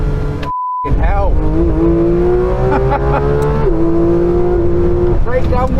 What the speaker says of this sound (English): it was time for my first laps in the Manthey racing car